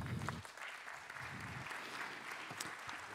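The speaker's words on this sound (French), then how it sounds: "On peut l'applaudir." Applause from an audience at an economics conference in France, greeting the president of the CNCEF as he is introduced. Steady clapping fills the whole stretch at moderate distance, with no talk over it.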